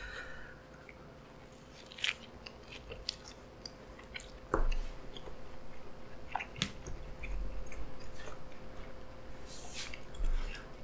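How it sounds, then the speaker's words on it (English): Chewing a Philly cheesesteak sandwich of tender steak, melted cheese and soft bread with a slightly crisp crust, heard as close, soft, wet mouth sounds and small crunchy bites in an irregular rhythm, with no talking. "just watch the chews I take."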